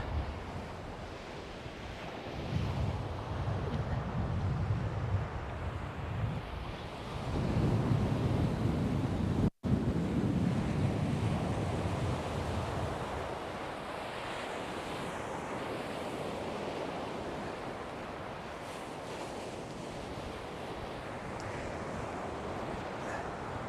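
Ocean surf breaking continuously at Southbourne beach during an evening sole fishing session, a steady loud wash of waves mixed with gusting wind buffeting the microphone, no voices.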